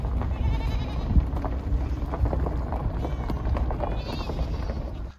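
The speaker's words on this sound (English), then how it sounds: "Look at all these goats." A large herd of goats bleats repeatedly in the open, overlapping calls near and far over steady wind rumble on the microphone, with a voice speaking briefly.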